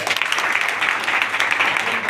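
An audience at a talk claps together in a dense, steady burst of applause that holds at an even loudness throughout, with no voices over it.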